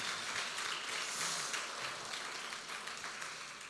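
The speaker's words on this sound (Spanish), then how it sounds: "puedes dar un aplauso al Señor esta mañana?" A church congregation at a Sunday morning service claps steadily for several seconds, a broad, even wash of applause across a hall that fades slightly toward the end.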